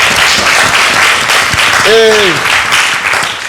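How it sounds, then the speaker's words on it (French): An audience applauds at a French-language café talk event, a continuous burst of clapping as a voice briefly speaks over it. "Applaudissements."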